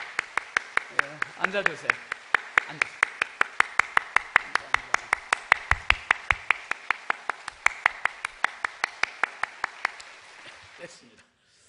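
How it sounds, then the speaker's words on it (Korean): A church congregation claps in rhythmic unison to welcome a newcomer, dozens of sharp even claps continuing for about ten seconds, with a spoken voice near the start. "우리 박수로 환영하겠습니다"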